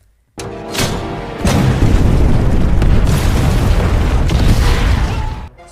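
A sudden deep boom bursts out in an underground tunnel, followed by a second heavier blast that rumbles on loudly for several seconds before cutting off.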